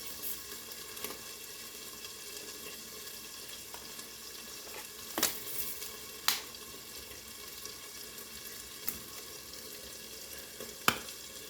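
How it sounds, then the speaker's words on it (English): Meat and potatoes sizzle together in one pan, a steady soft frying hiss with a few sharp crackles and pops at intervals. The sound is faint and close. "I'm just gonna slide my potatoes over and cook this meat in the same pan as my potatoes"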